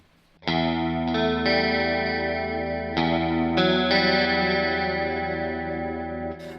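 Electric guitar chords strummed several times through a Mooer GE200 multi-effects unit, each ringing out lushly with wavering chorus modulation, echoing delay and a wide modulated reverb tail.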